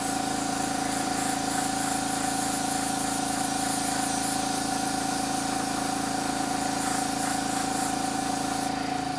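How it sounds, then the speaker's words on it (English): An airbrush sprays dark gray paint for a camouflage finish, giving a steady, close hiss of air and paint over a constant compressor hum that runs without a break. "I put in the airbrush another darker gray tone, and I'm just gonna spray it"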